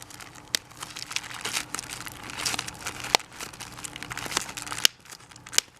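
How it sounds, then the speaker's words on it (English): Bubble wrap and plastic packaging crinkling and popping while a package is unboxed, close and fairly quiet, with irregular rustles and a few sharp isolated pops, no speech. "Ooh, and there's some bubble popping, some ASMR for you."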